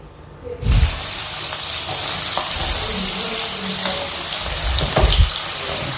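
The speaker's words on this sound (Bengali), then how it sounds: "এই পেঁয়াজ কুচিগুলো একে একে দিয়ে দেব" Chopped onions hit hot oil with a sudden loud sizzle that settles into a steady, crackling hiss, with a few soft clinks of utensils.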